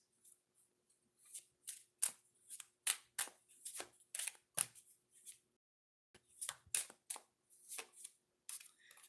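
Oracle cards are shuffled and drawn in quick bursts of crisp riffling and flicking, two clusters separated by a short pause, close and fairly quiet.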